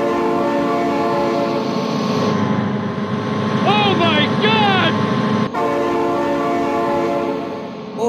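Train horn in the BeamNG.drive game as a train approaches trucks with flatbed trailers: a steady loud rumble, then a few long honking horn blasts in the middle, with game engine noise throughout.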